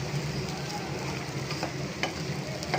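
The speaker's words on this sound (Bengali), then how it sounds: "মাংসটা তো আমি একটু লাড়াচাড়া করে দিব, যে এটা দিয়ে আমি একটু ভেজে নিচ্ছি" Duck meat is stirred and fried in ghee with salt, giving a continuous close crackling sizzle broken by occasional spatula scrapes, quiet and even, with no talking.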